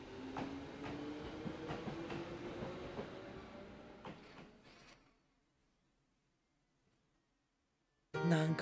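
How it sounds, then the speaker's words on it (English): A train passing by, a steady rumbling clatter with faint rhythmic clicks that fades out over several seconds into near silence, followed by a sudden loud burst of unrelated sound at the end. "Is that a train?"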